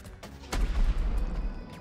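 A cannon firing in a video game, one deep booming blast with a heavy low thud that rumbles and fades over a second, close and loud with no talk.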